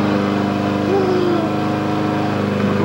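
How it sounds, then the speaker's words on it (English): A lawn mower drones steadily and loudly close by while mowing a home lawn in 1996, a continuous buzzing engine hum, with a voice talking over it. "Mowing the lawn."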